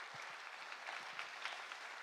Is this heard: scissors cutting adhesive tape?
no